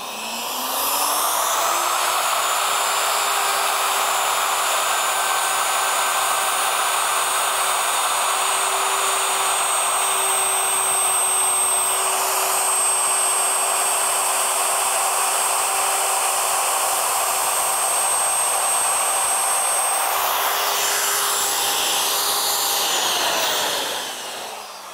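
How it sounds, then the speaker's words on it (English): A woodworking router spins up to a loud, steady high-pitched whine that holds for about twenty seconds, then winds down near the end, close and with no voices. "You just turn your router on."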